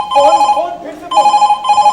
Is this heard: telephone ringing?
yes